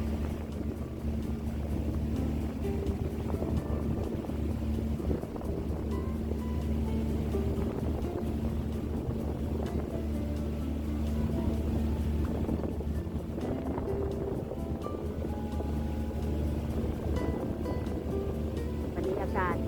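Harbour ferry crossing to Kowloon, Hong Kong, with a steady low engine drone and wind rushing over the microphone throughout, water noise beneath and someone speaking over it.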